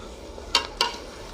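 A spoon scrapes and clinks twice in a pan of roasting buffalo first-milk boli, two short metallic strokes over a faint steady sizzle.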